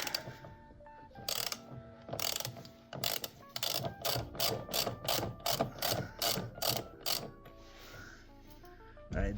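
Ratchet with a 24 mm socket and extension loosening a steering wheel bolt on an Alfa Romeo Giulietta, a steady run of about a dozen rapid clicking strokes, close and distinct, with no talk.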